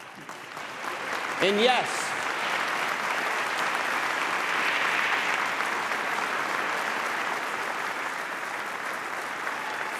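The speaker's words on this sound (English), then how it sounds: "I didn't even have to ask our customers and partners to applaud you" A large keynote audience applauds workmates, steady dense clapping filling the hall, with a brief spoken voice over the applause near the start.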